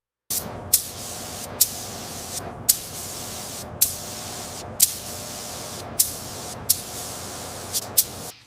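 A spray gun sprays clear coat in a series of short hissing bursts, each starting with a sharp pop, about ten sprays in a steady rhythm, close by.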